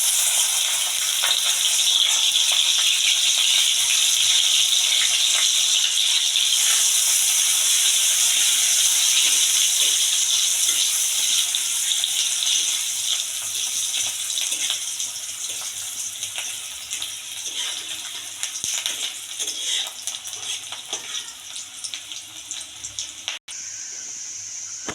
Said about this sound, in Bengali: তেল গরম হয়ে গেছে, আমি এখন পেঁয়াজটা দিয়ে দেবো।